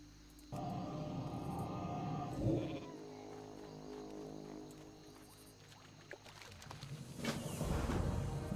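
Game-sounding sheep bleats from an enemy polymorphed into a sheep in World of Warcraft Classic, heard over a steady layer of ambient sound, with a louder swell toward the end.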